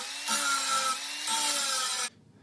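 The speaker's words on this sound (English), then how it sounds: "I'm going to take the safe route and just grind a little off here." A grinder takes a little off a thick steel plate J-hook barbell holder, two close abrasive grinding passes with a steady motor whine, a brief dip between them, then a sudden stop.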